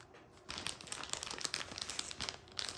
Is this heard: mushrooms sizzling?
no